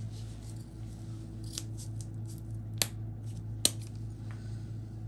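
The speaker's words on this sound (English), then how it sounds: "These are scissors I use for crafts." Craft scissors snip through material, giving a few sharp, close cuts spread across a quiet background hum, with no talking.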